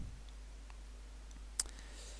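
A single sharp mouse click on a continue button in a contact-import program stands out against quiet background hum, with a few fainter ticks around it.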